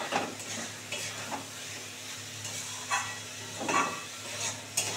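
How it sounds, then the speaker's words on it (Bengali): Spring onions being stir-fried with spices in oil, with egg in the dish; a soft sizzle runs under repeated scraping and clinks of a spatula against the pan, with no talking. "পেঁয়াজ কলিটা দিয়ে আরও 2 মিনিট ভালো করে কষাবো"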